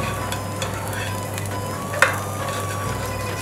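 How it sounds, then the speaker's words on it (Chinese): Shrimp cakes fry in a pan with a little oil while being flipped, giving a steady close sizzle with one brief scrape or clatter of stirring midway and no voices. "我们在这个锅上面不停的翻面，"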